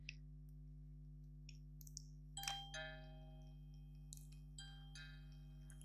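A loud wireless ESP-based Home Assistant doorbell chime rings out in a few short tonal bursts with light clicks, partly muffled by covering, over a steady low electrical hum.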